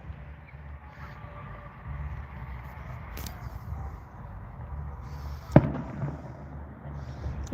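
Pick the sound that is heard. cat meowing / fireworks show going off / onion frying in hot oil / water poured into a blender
fireworks show going off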